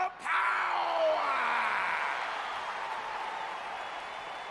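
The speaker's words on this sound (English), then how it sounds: "Clap for your best of 5 series host and feel the power." A video game arena crowd in WWE 2K20 roars and applauds after a sharp opening hit, a broad, steady wash of cheering and clapping that slowly fades.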